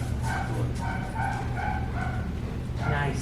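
A dog barks and yips in short bursts during rally obedience training, close and fairly loud, with a trainer's voice and general commotion around it.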